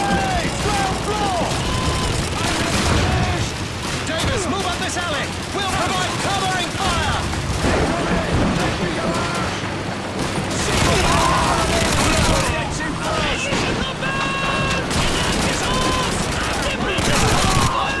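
Dense Call of Duty 2 battlefield din: continuous rattling gunfire, bursts of machine-gun fire and booming explosions layered with shouting voices, loud and sustained throughout.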